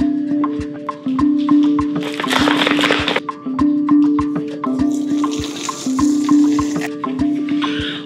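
Water pours and splashes into a container while preparing a protein shake with water, marked by repeated light clinks and taps between bursts of gushing.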